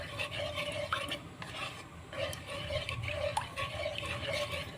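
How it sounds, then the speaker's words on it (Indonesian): A spoon scrapes and stirs thickening dough for onion sticks in a pan over medium heat. Continuous close scraping runs under a soft sizzle for several seconds, with no talking. "Terus kita aduk-aduk sampai dia ngentel"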